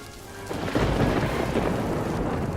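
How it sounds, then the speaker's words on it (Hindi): Heavy rain pours down steadily while a deep rumble of thunder rolls in and swells, loud and close. "जबकि पवन मूसलाधार बारिश को देखकर बहुत परेशान हो जाता है।"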